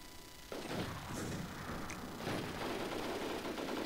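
A sudden loud blast from a grenade in the War Inc Battlezone shooter game bursts in after a quiet start, followed by ongoing rumbling game noise and another swell later.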